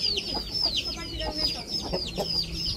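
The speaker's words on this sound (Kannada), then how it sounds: "ಕೋಳಿ ಮರಿಗಳು" Many chicks peep in high, rapid chirps nonstop, close and lively, with soft clucking and faint voices underneath.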